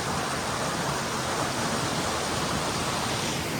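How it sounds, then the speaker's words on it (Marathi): A small monsoon waterfall gives off a constant, dense rushing hiss of falling water, close and even, with no voices. "यो मस्त असा धबधबा होता छोटासा"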